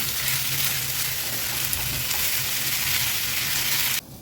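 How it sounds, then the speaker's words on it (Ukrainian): Meat sizzles loudly and steadily in a hot dry pan with no oil, a constant crackling hiss that cuts off abruptly near the end. "Смажу на сухій сковорідці, олію більше не додаю."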